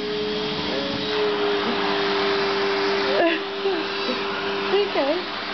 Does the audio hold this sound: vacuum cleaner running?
yes